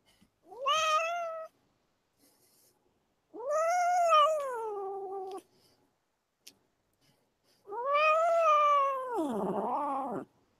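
Three drawn-out cat meows, close and clear, separated by short pauses, the last one longer and dropping into a low, complaining tone.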